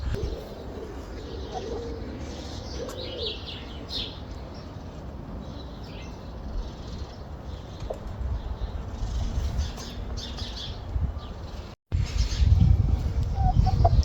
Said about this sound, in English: Chickens are nice and happy.